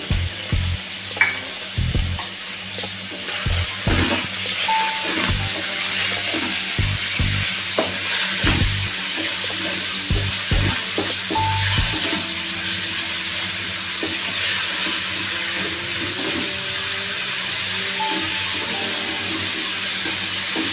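Chicken pieces sautéing in a pan as a pizza topping: a loud, steady sizzle close by, broken by sharp clinks and scrapes of stirring throughout, with no voices.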